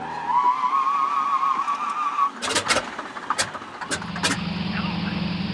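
A de Havilland Beaver floatplane's freshly installed engine cranks and catches with sputtering bursts, then settles into a steady low idle after a steady whine fades out.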